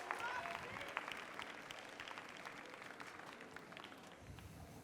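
An audience at the International Catering Cup applauds the Swiss catering team, a fairly faint, steady patter of many hands clapping in a large hall for several seconds.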